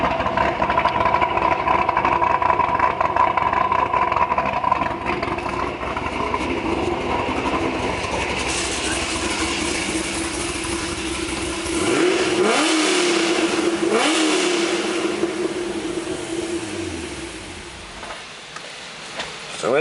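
A black 2008 Corvette Z06 with Kooks headers, an X pipe and Corsa exhaust rumbles at idle close by, then revs up in a couple of rising sweeps before settling back to a steady idle.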